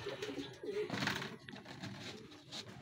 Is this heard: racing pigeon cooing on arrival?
yes